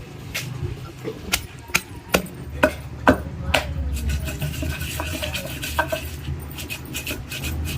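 Dried red chillies pounded in a stone mortar while making mango pickle, heavy rhythmic thuds with sharp knocks, evenly spaced at first and then quicker, softer and more jumbled.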